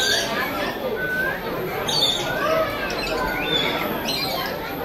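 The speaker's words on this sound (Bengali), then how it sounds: "অনেক ধরনের প্যারট আছে মা এখানে।" Several parrots, including African parrots, squawk and chirp in a busy chorus of short calls, with voices talking nearby.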